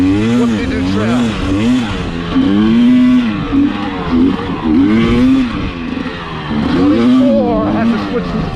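A 2020 KTM 300 XC-W TPI two-stroke dirt bike runs wide open in third gear on a Florida trail, its loud, close engine wailing and rising and falling in pitch over bumps while a rider talks over it.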